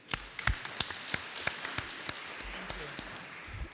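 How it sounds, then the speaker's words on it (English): Audience at the Oxford Summit of Leaders clapping after a set of presentations, sparse individual claps ringing out fairly near over a room murmur, thinning toward the end. "I will request that we give them another round of applause before your questions."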